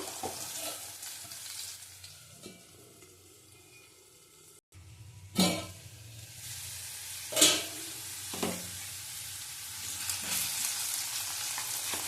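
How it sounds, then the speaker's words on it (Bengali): Low-heat frying in a pan for a tangy Bengali curry of mango, eggplant and prawns: a soft, steady sizzle with a few sharp stirring clinks and scrapes, close by, no voices. "এবার আঁচ কমিয়ে কমিয়ে ভাজবো, তাহলে সিদ্ধ হয়ে যাবে।"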